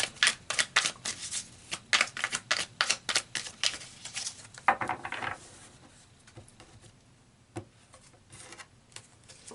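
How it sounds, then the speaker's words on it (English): Tarot cards being shuffled and pulled, a quick run of crisp flicking snaps for several seconds, then a few scattered soft card slaps and taps in a quiet room. "So let's pull some cards and see what else comes out."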